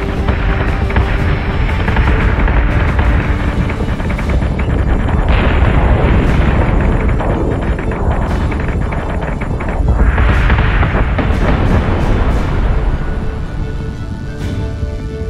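Warship guns firing in Battlestar Galactica Deadlock, a loud continuous barrage of heavy booms and blasts rolling over a deep hum throughout.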